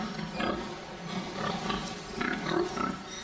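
Pigs inside a crowded pig farm give repeated rough grunts and squealing roars in overlapping bursts, close and fairly loud throughout, with no speech.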